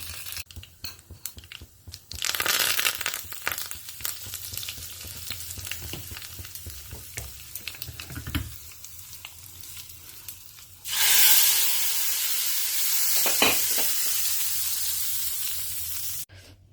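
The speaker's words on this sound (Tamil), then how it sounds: "இது கொஞ்சம் பொறிஞ்ச கையோட க கருவேப்பிலை பெருங்காயம் போட்டு நம்ம அதில் போட்டுடலாம்" Curry leaves and asafoetida sizzle in hot oil, a close, crackling hiss that spits and pops, then swells into a steadier, louder sizzle toward the end.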